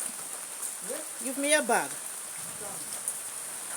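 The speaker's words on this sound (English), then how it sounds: "It's raining here." Rain falls steadily in rural Hanover, Jamaica, a soft continuous hiss under a brief exchange of nearby voices.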